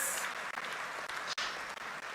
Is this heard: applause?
yes